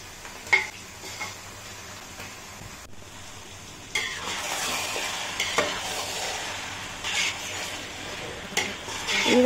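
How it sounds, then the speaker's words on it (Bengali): Spice-marinated mutton pieces frying in a pan with browned onions for a home-cooked mutton patla jhol, steady sizzle under repeated scraping stirs of a spoon against the pot, growing louder partway through. "এইরকমভাবে মাংসগুলো সব কষিয়ে নেব ভালো করে"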